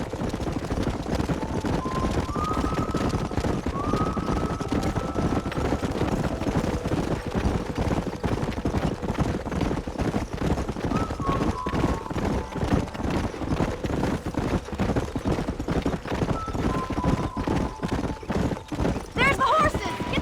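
Wild horses gallop in the Red Dead Redemption video game, a rapid, continuous drumming of hooves close by, with occasional whinnies and tonal accents riding over the pounding rhythm.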